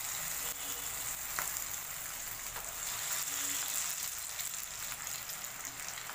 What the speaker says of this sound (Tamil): இந்த மீன் பீசஸை போட்டுடலாம் போட்டு ஃப்ரை பண்ணி எடுத்துக்கலாம்